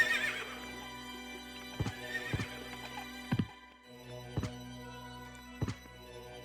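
Galloping horses in the video game Castlevania Requiem SoTN give a brief neigh at the start, followed by spaced, sharp hoof-like impacts over a steady electronic game backdrop, fairly quiet throughout.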